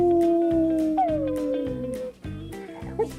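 Dog howling close by in a series of long, sliding, tonal wails with a brief break near the middle, loud and alone in a funny pet setting.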